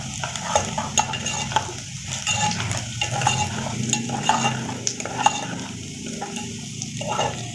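Onions frying in a pan for aloo paratha while a spoon stirs them, a close sizzle with repeated scraping and clinks of the spoon against the pan, and no talking.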